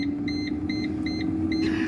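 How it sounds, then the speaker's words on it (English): An air fryer's timer beeps in a repeating series of short, fairly high electronic tones while it is set, over a steady low appliance hum. "We're gonna set the timer"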